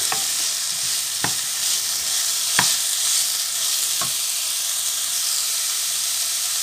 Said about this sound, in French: on doit donc cuire vraiment les champignons correctement